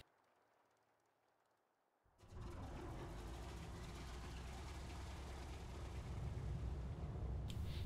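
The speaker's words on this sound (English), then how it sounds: "now I'll just go ahead and just start engine number 3" A World War II aircraft engine in War Thunder, engine number 3, restarts after being shut down. A quiet low hum gives way to a sudden loud, steady roar that holds to the end.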